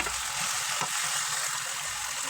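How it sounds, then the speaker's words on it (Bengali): Onions with ginger, garlic and green chili paste frying in oil for fried rice, a steady close sizzle running unbroken through the whole stretch with faint scraping underneath. "এগুলো হালকা একটু তেলে ভেজে নিতে হবে"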